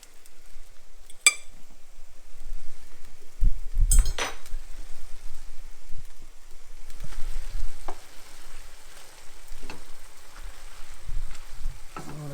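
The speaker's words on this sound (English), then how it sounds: "I'm just going to get a small plate out from up here, just so that I can take these salmon out of the pan." Cooked salmon is lifted out of a pan onto a small plate with a few clinks of utensil and crockery over a soft, steady sizzle of frying in the background.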